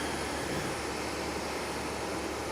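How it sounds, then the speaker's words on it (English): A small twin-engine plane coming in to land at Nagasaki Airport, heard as a steady, broad engine roar that stays constant throughout, with no talk over it. "We've got a wee baby plane"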